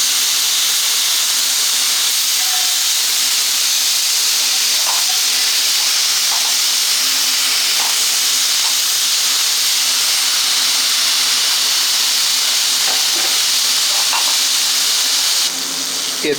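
Pork chops sizzle in a pan over an MSR Whisperlite Universal camp stove, a steady broad hiss that stays unbroken throughout, with a few faint clicks and pops scattered on top.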